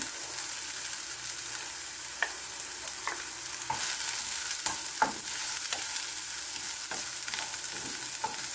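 Chopped onion sautéing in a small amount of cooking oil for ginisang pechay with shrimp, a steady close sizzle broken by occasional stirring clicks and scrapes of the utensil, with no talking.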